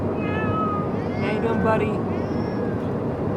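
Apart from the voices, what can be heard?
pet cat meowing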